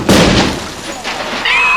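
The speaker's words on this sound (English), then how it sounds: "Add a loud explosion" A loud film explosion bursts at the start and decays into a rumbling, crackling roar that fades over a couple of seconds, alongside a speaking voice.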